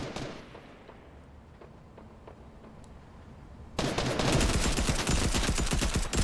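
A machine gun fires in Fortnite: rapid, continuous, loud bursts cut in abruptly after a quiet stretch with a few faint clicks, then sustain densely to the end.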